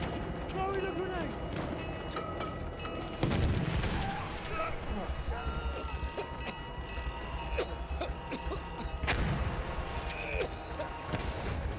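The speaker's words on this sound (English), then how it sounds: "Throwing a grenade." In Battlefield 1, a thrown grenade bursts with a heavy boom partway through. Scattered gunfire, mechanical game noise and muffled voices run throughout.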